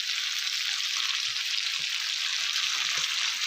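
Spices frying steadily in a pan, a dense continuous sizzle with faint stirring scrapes underneath, close and even throughout with no voices.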